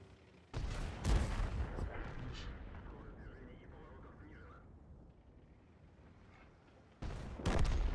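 Gunfire in an online shooter game: two bursts of heavy booming shots, one early and one near the end, separated by a fading rumble, with players talking over it.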